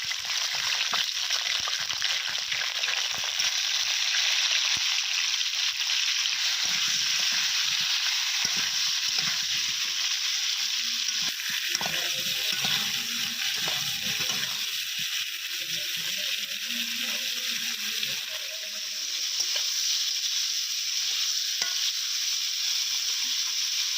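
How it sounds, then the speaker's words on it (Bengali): Onions frying in a wok (kadai) in oil tempered with bay leaf and cumin, cooked in a village kitchen at night; a continuous hissing sizzle with occasional stirring and sloshing sounds throughout. "কড়াইয়ের মধ্যে তেজপাতা জিরের ফোড়ন দিয়ে পেঁয়াজগুলো দিয়ে দেওয়া হয়েছে।"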